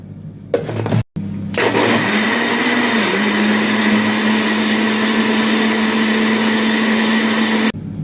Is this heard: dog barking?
no